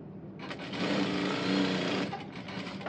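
Sewing machine stitching the side seam of a kaftan dress through lining and fabric, a rapid steady mechanical chatter starting after half a second and running close and even for the rest of the clip.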